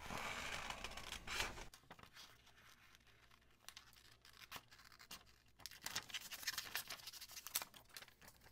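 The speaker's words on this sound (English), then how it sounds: "I am going to cut this pocket out from Kara." Scissors cutting a paper pocket out of a printed journal page: a series of crisp snips and paper rustles, close and fairly quiet, with irregular pauses between cuts and no talking.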